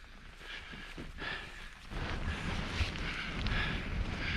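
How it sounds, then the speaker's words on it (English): Strong wind sweeps across a freezing Yorkshire Dales moor, a steady roaring rush that buffets the microphone and grows heavier partway through, with no voices. "Because it's really windy again."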